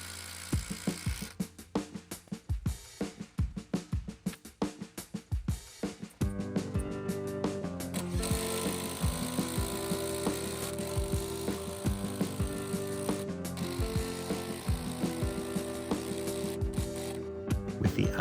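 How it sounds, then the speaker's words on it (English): Six-inch exterior lag screws are driven through pilot holes into 4x4 timbers for a shed foundation frame: a run of sharp ratcheting clicks for several seconds, then a steady droning tool hum with a few knocks, close by. "I drilled a couple pilot holes to make driving them in just a little easier"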